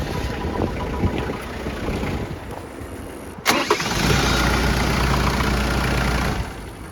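An abandoned, restored Jeep Cherokee XJ with a fuel-related cut-out fault cranks and starts partway through, then settles into a steady close idle before easing off at the end.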